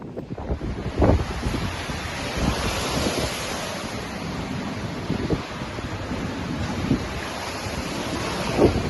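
Sea waves crash and splash on the shore at Dawlish, a continuous roaring wash with louder surges breaking through, heard close up and mixed with gusting wind buffeting the microphone.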